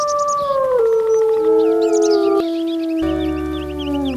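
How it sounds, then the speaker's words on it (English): A wolf howls in the WolfQuest 2.7 game, several long sustained howls rising and falling over about four seconds, loud and close with no talk. "Now, all I have to do is reach it and howl."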